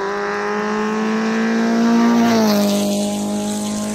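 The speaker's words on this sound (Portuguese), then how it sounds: "Embaixo desse capô aqui, ó, tem um motor de Civic SI." A lowered Renault Twingo 1.0 16V fitted with a Honda Civic SI engine revs up close, its pitch climbing into a strong high whine before dropping back as the throttle eases.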